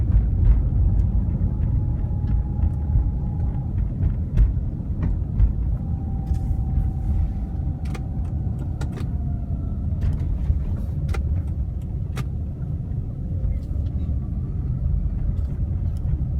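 Car driving along airport access roads at Ontario International Airport in California, a steady loud interior road rumble and engine drone running continuously, with occasional faint clicks and no voices.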